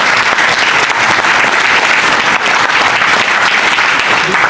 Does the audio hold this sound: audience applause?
yes